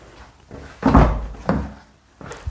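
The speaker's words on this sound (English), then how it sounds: "So listen to the noise of the door as it's closing." Door of a Suzuki Swift Sport closing, two or three close, solid thunks spaced about half a second apart, with no talk.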